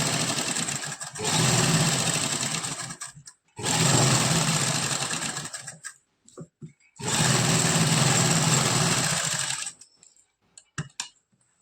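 Sewing machine stitching a suit seam, running in three long steady bursts with short pauses between, close and loud with no talking.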